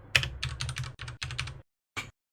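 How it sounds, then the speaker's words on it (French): Quick bursts of typing on a computer keyboard, close and clear, with irregular clusters of key clicks, a brief pause, then a final couple of keystrokes, with a low hum underneath and no talking. "je suis très lent d'écriture au clavier"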